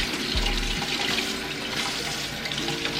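Tap water streams steadily into a kitchen sink while a cucumber is rinsed under it, a close, continuous splashing hiss.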